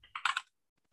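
A quick burst of four or five keystrokes on a computer keyboard, close and crisp, clustered within half a second before falling silent.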